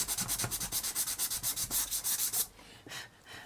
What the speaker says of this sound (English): Let me get a little piece of sandpaper. I'm just going to smooth that down.